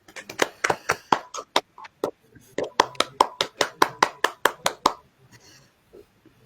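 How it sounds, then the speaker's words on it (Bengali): A group applauds a milestone at a live gathering with roughly twenty crisp, separate hand claps. They come in a quick, fairly even rhythm, pause briefly and resume, then fade into faint scattered claps. "হাততালি দিই, সবাই মিলে।"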